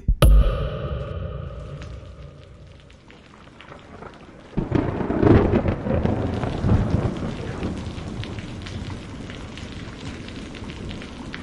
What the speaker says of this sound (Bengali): ঝোড়ো ঠান্ডা হাওয়া আর মুষলধারে নেমে আসা অবিরাম বৃষ্টির ফোঁটায়